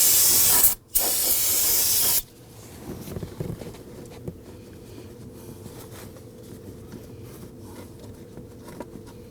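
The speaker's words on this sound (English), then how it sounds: "we're going to take some spray solvent and clean up any of the residual fuel that's around here" Two short bursts of spray solvent hiss loudly from an aerosol can onto residual fuel around a Subaru Legacy fuel pump module opening, then give way to quiet handling noises and faint clicks.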